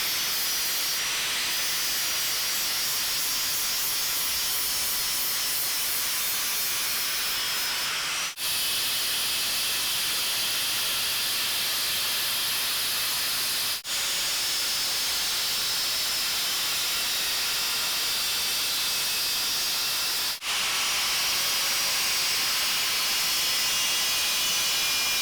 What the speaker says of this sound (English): And get these 2 welds cleaned off real quick with a flap disc.